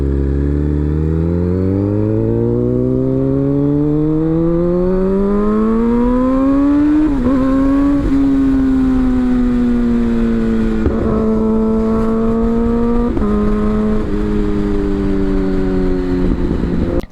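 Kawasaki ZX-10R sportbike with a full titanium exhaust revving hard and shifting up through the gears, each change marked by a brief dip before the loud, close engine note climbs again.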